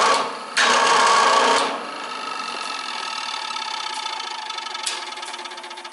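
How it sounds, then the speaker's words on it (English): The worn motor of a 40-inch scrapyard fan runs with a harsh, raspy grinding whir, loudest at first and then settling into a steady rough hum with occasional scraping ticks. "Whew, that motor sounds bad."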